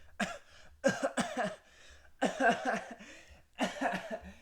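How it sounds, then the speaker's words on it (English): Several bursts of harsh coughing, close and fairly quiet, in four separate fits with short pauses between them. "just coughing all over our stuff, smiling and laughing"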